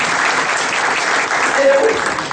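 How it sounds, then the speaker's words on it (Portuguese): An audience at a sales training event breaks into loud, sustained applause, a dense wash of clapping that runs throughout at steady strength, with a voice faintly heard beneath it. "Dá uma forte salva de palmas para ele aí."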